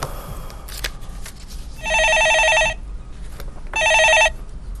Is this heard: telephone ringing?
yes